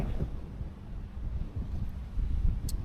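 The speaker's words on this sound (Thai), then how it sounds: "ก็ดีลมแรงพัดเย็นสบาย" Strong seaside wind buffets the microphone in low, uneven gusts, rising and falling softly with a faint rumble and no voices.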